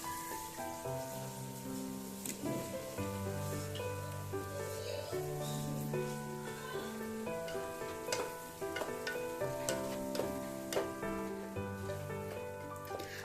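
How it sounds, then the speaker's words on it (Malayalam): Marinated chicken going into a pan with mint and coriander leaves for a Palakkad wedding-style basmati biryani, giving a steady sizzle with stirring clatter under continuous background music. "ശേഷം നമ്മൾ മാരിനേറ്റ് ചെയ്ത് ചിക്കൻ അതിലോട്ട് ചേർത്ത് കൊടുക്കാം."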